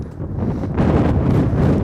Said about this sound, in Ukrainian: У вітряну погоду задоволення ще те.